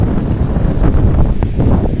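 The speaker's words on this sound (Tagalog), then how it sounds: "ang lakas ng hangin" Strong wind buffets the microphone outdoors on open agricultural land in Moncada, Tarlac, a constant loud rumbling roar with gusty swells and no voices.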